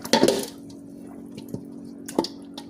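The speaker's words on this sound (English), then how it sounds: "So I'm going to pour the water out" Water poured out of a container of raw chicken soaked in vinegar water, a short splashing burst at the start followed by a few scattered drips and small clinks, close and fairly quiet.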